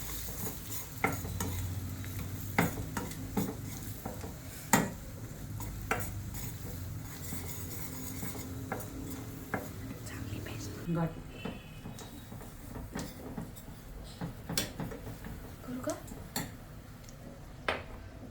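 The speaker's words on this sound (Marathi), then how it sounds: "आता आपण त्याच्यात 1 चमचा मैदा घालूया आणि चांगलं हलवून घेऊया।" A spoon stirring a spoonful of flour into a mushroom mixture in a pan, with soft scraping and irregular clinks against the metal over a low background hum, quiet and close.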